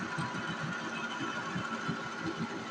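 A lathe cuts a thread with a die, giving a steady mechanical hum with a quick repetitive rhythmic clatter throughout, close and fairly loud, with no speech.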